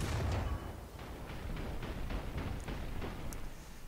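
An M10 tank destroyer's main gun firing in War Thunder: a heavy booming blast at the start, followed by a rumbling tail and a series of fainter, repeated thuds.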